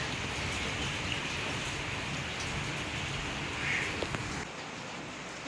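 Steady rain falling outdoors near banana plants, a dense, even hiss of drops that carries on throughout at close range, easing slightly near the end.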